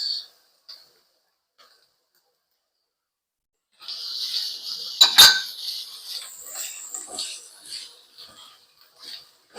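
Onion being stirred into tuna and tofu sisig in a pan, with a burst of utensil scraping and clinking against the metal followed by several seconds of softer scattered stirring and clatter, near and alone.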